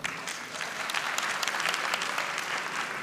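Shareholders at a Dangote Sugar Refinery annual general meeting break into applause, a moderately loud, sustained patter of clapping across the room with a few sharper claps standing out.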